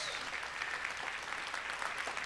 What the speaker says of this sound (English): give just a thundering round of applause to the Black History Committee members